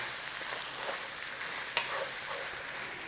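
Tomato puree and Worcester sauce being stirred through in a pan for a sausage pie filling, a soft quiet sizzle with gentle stirring and one brief scrape partway through.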